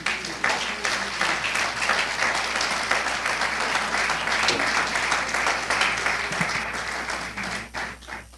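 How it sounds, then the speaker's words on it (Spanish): A church congregation applauds during a Sunday service, producing dense, sustained clapping that fills the room for several seconds before thinning out and fading toward the end. "¿Cuánto le dan un aplauso al Señor?"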